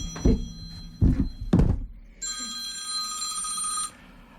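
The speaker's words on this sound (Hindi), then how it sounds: "मैं अपना फ़ोन ऑफ करना भूल गई थी" A telephone rings during a live Hindi radio broadcast in a studio, preceded by three dull thumps and then a single sustained electronic ring lasting under two seconds before it cuts off.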